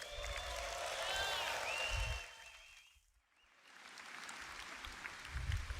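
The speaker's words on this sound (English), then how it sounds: "Another round of applause for Andre and getting new hairs into the game." An audience claps loudly at a CitizenCon Star Citizen convention stream, steady applause that fades almost to silence midway and then swells again.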